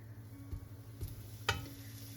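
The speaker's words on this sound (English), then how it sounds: "I put a little bit of olive oil, not too much, in the bottom of this pot, and we're just going to brown off these meatballs really quick." Meatballs brown in a little olive oil at the bottom of a pot, a quiet steady sizzle with a few soft knocks as they are moved about.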